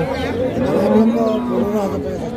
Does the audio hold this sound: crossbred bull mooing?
yes